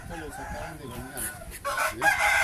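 Rooster crowing in a cockfighting breed yard, a couple of loud nearby crows over background clucking and murmuring voices.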